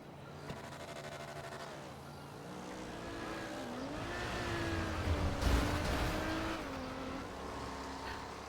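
Cars driving by in the video game GTA, engines rising and falling in pitch as they pass at moderate distance, with a brief swell of noise near the end.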